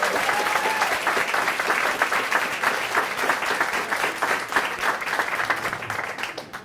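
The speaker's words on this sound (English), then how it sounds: "Would you give her a round of applause?" A crowd at a welcome reception claps for the Portland police chief, sustained loud applause that tapers slightly toward the end.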